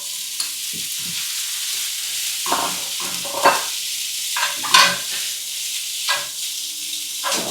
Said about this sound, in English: We're gonna put it on the pan, of course, pan fry.